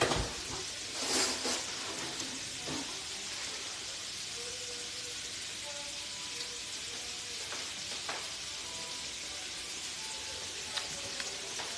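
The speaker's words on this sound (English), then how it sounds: "Make sure you brown the sausages." Sausages sizzle and brown in a pan as gumbo is made, giving a steady, quiet fry hiss throughout with a few faint clinks and stirring sounds.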